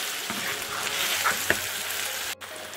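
Garlic pickle sizzles in a pan while it is stirred, giving a continuous soft frying hiss with a few light scraping taps.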